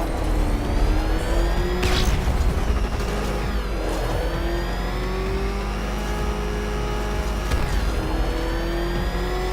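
Batmobile in Batman: Arkham Knight driving with a loud, steady engine drone whose pitch slowly rises and falls with speed, plus a few brief whooshes and bumps, constant and close.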